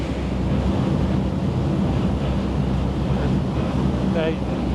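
Ocean swell and waves where Sydney Harbour meets the open sea near the headland, a steady broadband wash close to the boat, mixed with wind noise on the microphone and the rumble of the vessel, with no pauses.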